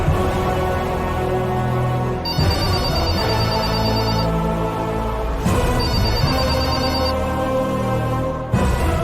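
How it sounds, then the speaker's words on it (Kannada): A home landline telephone rings in two long repeated bursts, a steady electronic trill over a busy background of music, loud and close. "ಮನೇಲಿರೋ ಫೋನ್ಗೆ ಫೋನ್ ಮಾಡು."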